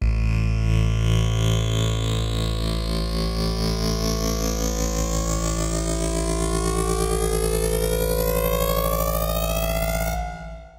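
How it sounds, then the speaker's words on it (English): Riser sound effect sample, untreated, built from many tones that sweep steadily upward for about ten seconds. It holds loud and dense throughout, with a distorted, siren-like quality, then cuts off abruptly at the end. "we're going to take an existing riser effect, make it more intense, and amplify it with FRQ Shift"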